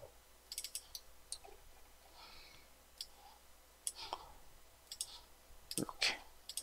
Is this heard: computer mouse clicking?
yes